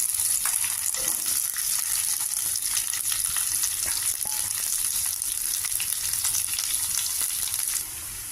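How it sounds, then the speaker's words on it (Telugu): Small-cut onion pieces frying in oil over tempered mustard seeds in a pan, a loud continuous sizzle with occasional stirring clicks that drops off just before the end. "ఉల్లిపాయ ముక్కలు వేసి కొద్దిగా ఫ్రై చేసుకోవాలి"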